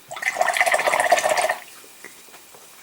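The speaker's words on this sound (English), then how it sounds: "Wash our brush out" A paintbrush swishes and splashes in water for about a second and a half, followed by faint drips and light clicks.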